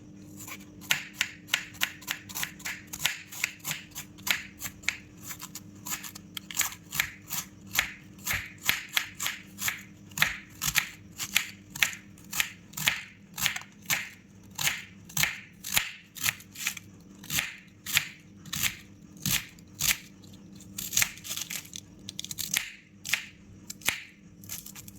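A knife slicing through a head of cabbage at an angle for chop suey, producing a long, steady series of crisp, crunchy cuts in close succession, near and fairly loud, with no talking.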